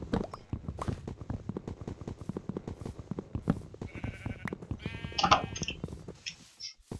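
Sheep in a video game bleat several times, short nasal cries over a busy run of clicks and footsteps, with a brighter burst of game sounds near the end.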